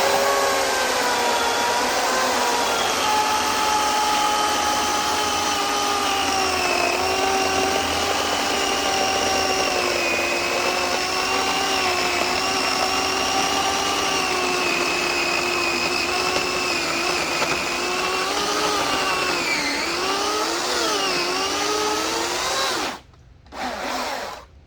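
A WORX 16-inch electric chainsaw cuts through a heavily weathered log, its motor holding a loud, steady whine that dips and wavers under load, then cuts off briefly and restarts at the very end.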